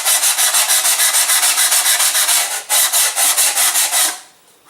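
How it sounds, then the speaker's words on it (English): A glider wing part being sanded gives loud, rhythmic back-and-forth rubbing strokes, about five per second, briefly pausing midway before trailing off to quiet at the end. "Go ahead and sand, get a little bit flat."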